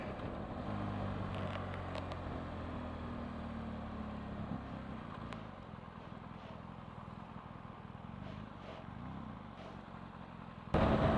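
A 2017 BMW R1200GS motorcycle rides along a road, its engine a steady drone with wind rush throughout, a low hum easing off part way, and a brief louder burst at the very end.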